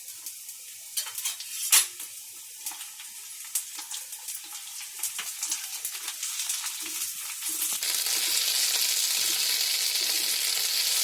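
Vegetables with ginger garlic paste and chillies cook in a pan for a Konkani-style meal; utensils clink and scrape while stirring, then a loud, steady sizzle fills the last few seconds.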